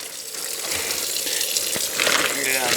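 Water gushes steadily from a tap to rinse the cure off a slab of homemade dry-cured bacon. The flow is continuous and close, and it swells near the end.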